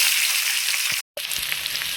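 Onions sizzle loudly in hot oil for semolina upma, a dense, even crackle close up that cuts out for a moment and then resumes.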